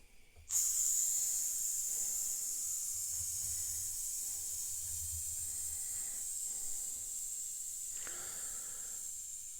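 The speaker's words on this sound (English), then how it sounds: "Hose steamed pretty well, considering the type of oscillating cylinder that it is." Steady hiss of steam escaping from a Weeden #20 brass upright steam engine with an oscillating cylinder, starting abruptly after half a second and continuing evenly and close throughout, with faint low chuffing beneath.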